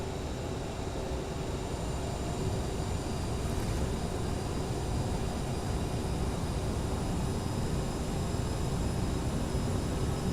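A CRJ-900 jet airliner on its takeoff roll in a flight simulator, a constant broad engine roar with a steady whine running throughout at moderate level, and no speech.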